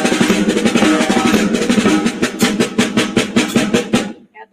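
Drum kit playing straight triplet fills for big band, a fast run of evenly spaced loud hits in a steady rolling rhythm that stops abruptly near the end.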